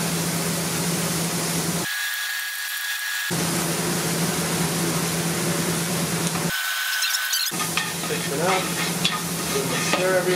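Beaver meat fries in fat over high heat, giving off a loud, steady sizzle. The meat gets stirred now and then, and the hiss cuts out briefly twice.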